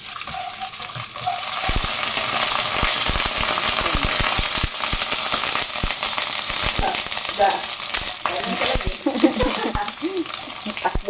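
Garlic frying in olive oil for adobong pusit, a loud, steady sizzle close by with scattered sharp pops and spatters throughout, and faint voices now and then underneath.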